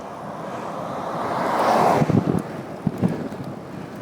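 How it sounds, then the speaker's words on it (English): Wind rushes hard into a cyclist's microphone on a bike ride, a loud swelling buffet that peaks and then breaks into gusty thumps and rumbles. "The wind's into my face again."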